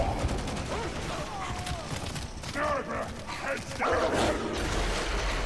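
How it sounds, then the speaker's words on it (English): Game dogs bark and yip repeatedly in Warhammer 40,000: Darktide, mixed into dense combat noise with gunfire and clatter, moderately loud amid chaotic background. "Stupid dogs."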